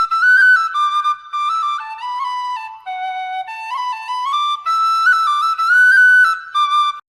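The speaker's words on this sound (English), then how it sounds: "W is for whistle." A whistle played in a musical sequence, with clear bright sustained tones stepping up and down in pitch in short phrases, loud and alone with no talking.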